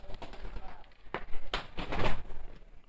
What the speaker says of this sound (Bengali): আর এই বেবি পায়রাটা এদিকে চলে এসেছে